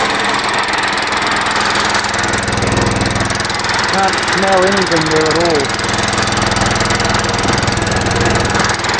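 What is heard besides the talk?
new engine running on the Gas O Matix 9000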